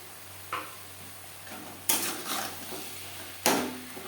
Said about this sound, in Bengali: পেঁয়াজ টমেটো মশলার সাথে আলু বেশ ভালো করে মিক্স করে দেবো